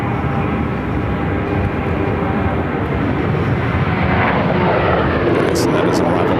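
An Airbus A350-900 airliner arriving from Detroit rumbles loudly and steadily at an airport, a continuous broadband engine roar throughout with talk over it.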